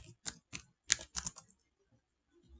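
Keys on a computer keyboard tapped in a short burst of about eight quick, close clicks during a brief pause from talking, followed by near silence.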